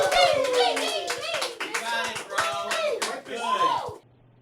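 An audience at a livestreamed charity music event claps and cheers in a short burst, with bright shouts and voices mixed over the clapping before it cuts off abruptly.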